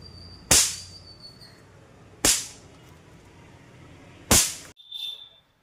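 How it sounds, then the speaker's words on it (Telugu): Three mini multicolor party poppers from a small ₹10 firecracker box burst one after another at close range, each a loud sharp crack spaced a couple of seconds apart, followed by a brief fainter fizzing hiss. "మల్టీ కలర్ పాపర్స్ అండి. చిన్న చిన్న పాపర్స్ వస్తుంటాయి."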